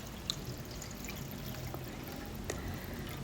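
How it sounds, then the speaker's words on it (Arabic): Hot water from a boiler is poured onto mallow (Tunisian mloukhia) in a cooking pot, a steady, fairly quiet trickling stream with a few small clinks. "صبيت عليه ماء من البويار"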